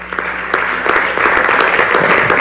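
Audience applause at a political address in Spanish, a dense, steady round of clapping from a crowd, fairly loud and continuous throughout.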